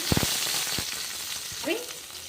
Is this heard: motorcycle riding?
no